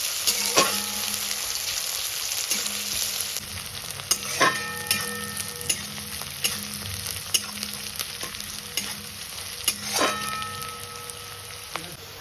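Onions frying in a pan for chicken tehari, a steady sizzle under sharp scraping clicks of a spatula against the pan at irregular moments, close by with no talk.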